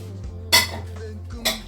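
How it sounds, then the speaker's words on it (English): A spatula mixing oat flour with baking powder, salt and soda in a bowl gives two short, loud scraping swishes against the bowl, close up, with a low hum underneath. "you make sure you mix them with spatula like this, or a hand whisker, to mix everything thoroughly really well"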